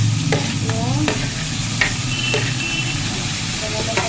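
Jackfruit fries with onion and garlic paste in a wok, giving a steady close sizzle with intermittent scraping and stirring strokes.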